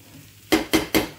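Three quick clinking clatters of dishes being handled at a kitchen sink, sharp and close, evenly spaced after a quiet start.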